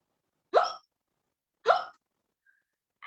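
A voice imitating a frog burping gives two short, throaty hiccup-like gulps about a second apart, then the start of a third, with silence between each and nothing else heard.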